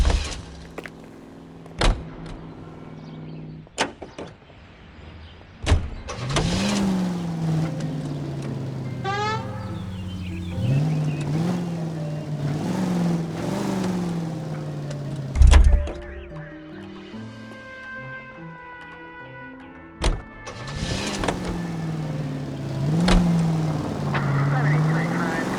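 Car driving in the 1940s Los Angeles crime video game L.A. Noire: engine revs rise and fall with gear changes, alongside sharp impacts and clicks, with game dialogue heard over the driving.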